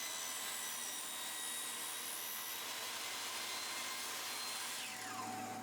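A table saw cutting plywood with a crosscut sled, a steady loud whirring drone with a faint rising whine near the end, continuous and close, no talking.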